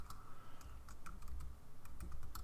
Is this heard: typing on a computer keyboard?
yes